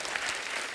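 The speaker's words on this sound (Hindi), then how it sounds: "गुरुदेव की जोरदार तालियां इनके लिए" Audience applause at a comedy show with a musical family on stage, a brief burst of dense, loud clapping from a live crowd with no voices over it.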